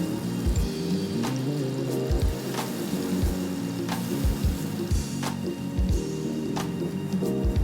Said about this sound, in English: we want to saute these until they get nice and soft